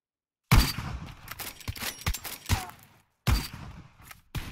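Several sharp gunshots from the video game Knives Out in quick irregular bursts, with thuds and brief gaps of silence between them.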